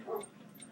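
Dogs give a brief, faint whimper and yip at night inside a house, one short burst with no other sound around it.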